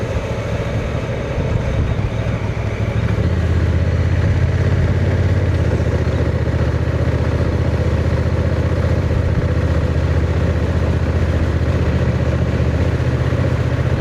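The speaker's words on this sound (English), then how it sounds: "Tell you what, it's got plenty of engine braking." A 2025 Honda NT1100 DCT motorcycle rolls along a back lane under engine braking, its twin engine giving a loud, steady low drone mixed with wind rush that deepens slightly after a few seconds.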